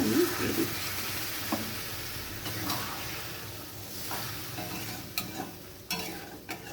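Spice-rinse water is poured into a hot pan and sizzles softly, with a steady low frying hiss broken by a few light clinks and scrapes of a utensil against the pan.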